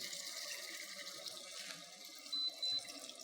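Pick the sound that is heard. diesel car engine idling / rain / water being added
water being added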